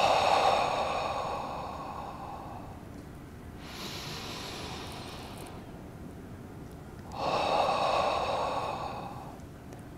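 Deep, slow breathing during a relaxed warm-up exercise at a Parkinson's health and wellness expo, with long audible breaths alternating in and out, close and fairly quiet, without speech.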